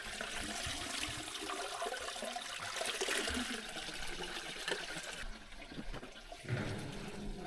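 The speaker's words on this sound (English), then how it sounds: "Here there is a spring." Water runs steadily from a mountain spring on Mallorca, a continuous splashing trickle close by that shifts in tone near the end.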